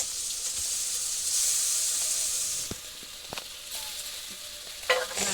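Garlic, onion and a cumin-chilli paste sizzle quietly in a pan in a village kitchen, a soft steady hiss that fades midway, broken by a few sharp clicks of stirring.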